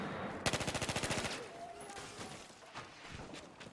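Rapid automatic fire from a G18 pistol in a Battlefield game, a tight burst of about a dozen sharp shots in quick rhythm, followed by fainter scattered clicks and distant pops.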